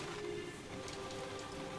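Steady rain falling in a scene from Fullmetal Alchemist: Brotherhood, a dense, even hiss of drops pattering on surfaces that runs unbroken throughout, with no voices.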